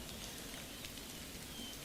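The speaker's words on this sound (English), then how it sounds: "absolutely tipping down here with the rain" Steady rain hisses down on a battlefield in Empire Total War, a continuous dense patter with no pauses, fairly quiet and alone with no voices.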